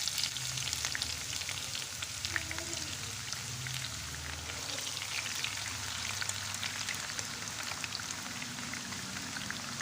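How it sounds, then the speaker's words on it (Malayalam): Sliced onions frying in heated oil in a pan for chicken biryani, a continuous dense crackling sizzle like steady rain, close and even throughout with no talking. "ഇനി നമുക്ക് ഇതിൽ സവാള ഇട്ടൊന്ന് പൊരിച്ചെടുക്കാം."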